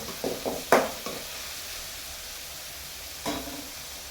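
Onions and mixed vegetables frying in oil for chitranna, a steady soft sizzle with a few short scraping stirs near the start and one more later, close and fairly quiet.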